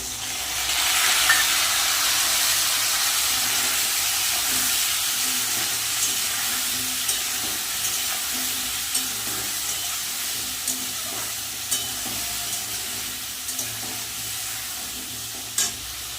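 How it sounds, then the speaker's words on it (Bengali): Tomato, ginger, cumin and green chilli spice paste sizzles and fries steadily in a pan, a continuous close hiss with occasional stirring scrapes throughout. "এই মশলাটা এখন দিয়ে দেবো এখানে আছে টমেটো আদা বাটা জিরে আর কাঁচা লঙ্কা বাটা"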